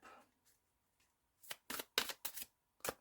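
A deck of large tarot cards is cut and shuffled up close, giving several quick, crisp riffling bursts after a quiet start.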